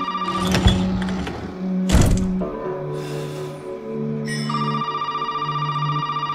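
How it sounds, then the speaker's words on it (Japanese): A telephone rings in the video game Resident Evil 7: repeated electronic ringing tones in sequence, mixed with clunking mechanical thuds and game sounds, moderately loud with no speech. "ゾイのゾイからの電話を出て、えー、終わりましょうと"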